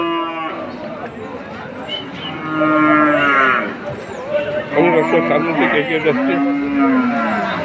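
Cows mooing at a cattle market in Monirampur, several long, loud, drawn-out calls close by, one after another, with someone talking in between and market chatter behind.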